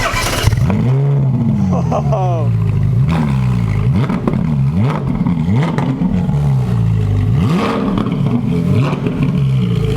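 A Ferrari engine with its stock exhaust cranks and fires up loudly, then revs in repeated rising and falling bursts with a throaty exhaust note, close by.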